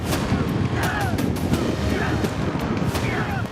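Air guns fire at an outdoor gun training camp, several sharp cracks at irregular intervals over constant rushing wind noise on the microphone.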